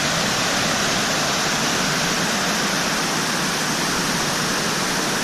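River water rushes steadily through the Subway slot canyon in Zion National Park, a loud, unbroken hiss and roar of flowing current with no voices over it.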